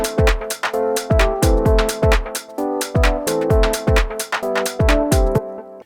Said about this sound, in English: I have this E-piano sound that I wanna add some extra processing to